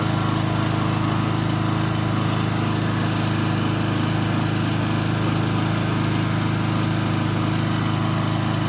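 A portable generator charging a battery through an inverter runs nearby with a loud, steady engine drone and hum, unchanging from start to finish with no talking.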